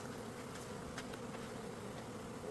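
Honey bees in a freshly opened beehive give a steady, close, low buzzing drone, with a few individual bees sweeping past, and no voices.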